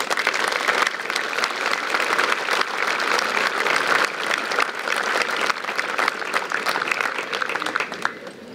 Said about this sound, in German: unterstützen Sie mein Danke an die Rekruten, an die Militärangehörigen mit einem großen Applaus